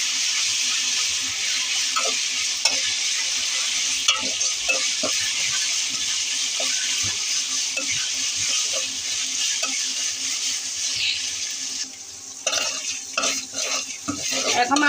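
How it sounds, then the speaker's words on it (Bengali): Onion, ginger and green chili paste frying in a pan for a bitter gourd dish, a steady sizzle with repeated scraping stirs of a utensil against the pan, clattering more near the end. "এখন একটু ভাজবো"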